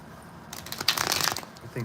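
A deck of cards being shuffled up close, a dense rapid riffle of flicking and slapping cards lasting about a second, with no voices.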